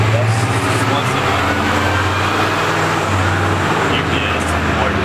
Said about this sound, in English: There's a truck going by, so it's kind of loud